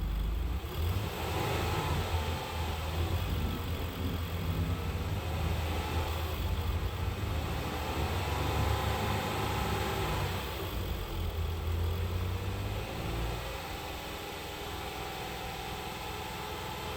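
A Dodge Durango with a 3.6L Pentastar V6 is held at raised throttle around 2,500 RPM during an exhaust back pressure test, giving a steady, moderate engine drone that runs continuously and eases slightly near the end.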